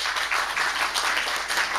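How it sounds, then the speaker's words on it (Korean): A church congregation at Eungam Holiness Church applauds to encourage a newly appointed deacon, with dense, continuous clapping from many hands and no talk. "한번 격려의 박수 한번 해주시죠"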